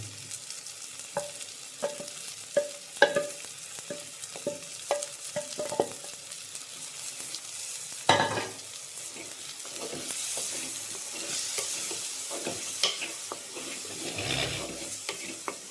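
Fish masala paste fries and is stirred in a pan, with a ladle clinking and scraping in quick bursts over a low sizzle, then a louder, steady frying hiss.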